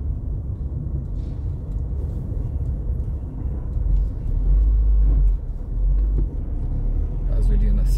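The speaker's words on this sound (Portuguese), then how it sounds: "Já começa a aumentar o trânsito aqui." City street traffic in Friburgo rolls by as a low engine rumble that swells as heavier vehicles pass nearby, with a person talking over it.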